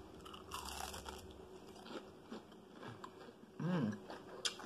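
Crunchy fried fish from Long John's, eaten with sriracha ranch, bitten and chewed up close; a few sharp crisp crunches and chewing sounds with quiet pauses between bites.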